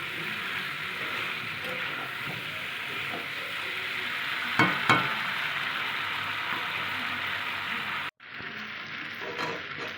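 Fish curry with arum root, chili powder and green chilies fries in a pan with a steady close sizzle, a few stirring scrapes and knocks near the middle, then a sudden dip in the sizzle near the end.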